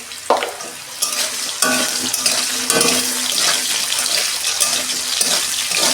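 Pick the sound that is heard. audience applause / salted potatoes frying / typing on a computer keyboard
salted potatoes frying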